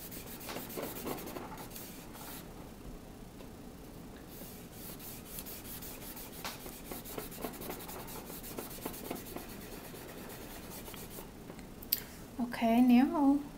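Felt piece rubbing ink onto card to make sand for a card beach scene, a soft steady scrubbing and brushing up close with light taps, ending in a brief louder squeak.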